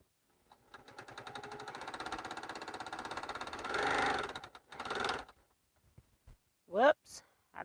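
A home sewing machine stitches quilting fabric in a rapid, even mechanical chatter that runs for about three and a half seconds, followed by a shorter burst and a few faint handling sounds, with a brief voice near the end.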